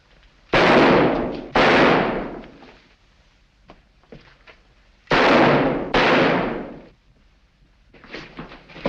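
A gunshot sound effect in a 1943 Sherlock Holmes radio drama, Faces Death: four loud, sharp bangs in two closely spaced pairs, each with a reverberant decay, separated by a quiet stretch with faint movement.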